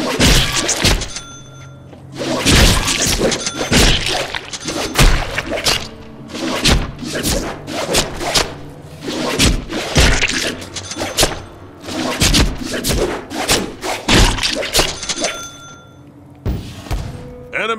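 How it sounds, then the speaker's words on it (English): Rapid melee strikes landing in the Deadpool video game, light and heavy attacks mixed together into a dense run of punchy thuds, whacks and crashes over game music and effects, loud and close throughout. "mix our light and heavy attacks together and see what happens."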